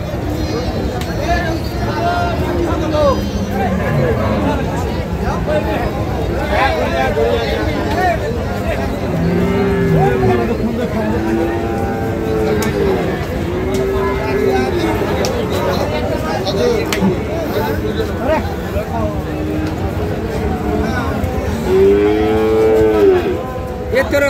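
Cattle and bulls mooing repeatedly, several calls at moderate distance, amid a constant hubbub of crowd chatter at the busy Ambari livestock market in Bangladesh.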